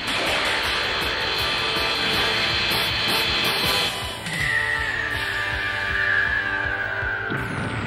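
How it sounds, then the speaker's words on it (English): Cartoon sound effect from Voltron: Defender of the Universe of spinning laser blades and drills, a continuous loud whirring hiss with a sweeping electronic tone and mechanical rattling throughout. "Try spinning laser blades."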